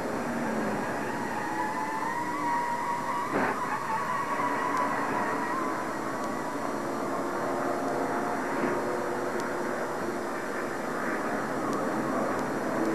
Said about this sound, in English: Now this is from Ernie Irvin's car, looking out back.